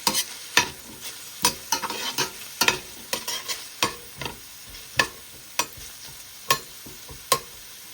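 Beef and carrots for spaghetti chowmein fry in a pan with a steady close sizzle, broken by repeated sharp clacks of a utensil stirring and scraping the pan roughly every half second.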